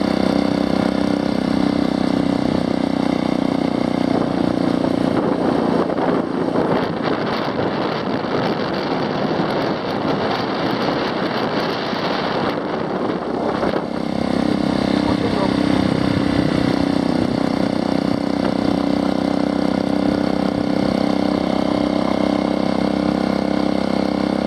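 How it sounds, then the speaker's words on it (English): A motorcycle rides on Pico de Orizaba, its engine droning steadily and loud throughout with wind rush. The note dips in the middle before resuming, while a person talks over it. "Okay, let's continue riding the motorcycle."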